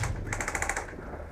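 An airsoft gun fires a quick, evenly spaced burst of about eight shots during an outdoor airsoft game, fairly loud against steady background noise.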